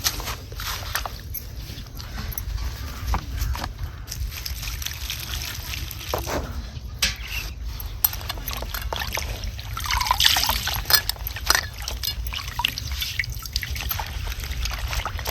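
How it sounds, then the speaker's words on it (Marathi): Garlic greens are washed by hand in water, with steady trickling, dripping and light sloshing close by, plus occasional handling knocks throughout. "आता इकडं आपल्याला ही पात धुवून घ्यायची या."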